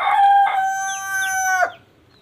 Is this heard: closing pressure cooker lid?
no